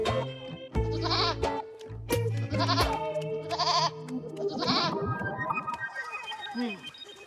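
Several loud, wavering goat bleats ring out one after another close up, followed by a jumble of quicker, fainter bleats and animal cries toward the end.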